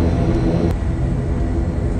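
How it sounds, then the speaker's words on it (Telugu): An IndiGo passenger plane taxiing slowly toward the runway, a loud steady low engine rumble and hum heard continuously from inside the cabin, with one brief knock. "ఇప్పుడు ప్లేన్ అయితే స్టార్ట్ చేశారు. ఇక్కడ నుంచి స్లోగా ముందు రన్వేలోకి తీసుకెళ్తాడు"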